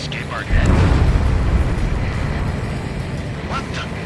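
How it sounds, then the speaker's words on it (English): A huge underwater explosion in the Ace Combat 7 flight combat game, heard during the Ten Million Relief Plan DLC mission, swells into a loud, sustained low rumble that rolls on for several seconds, with faint game tones drifting above it. "A huge explosion just went off underwater."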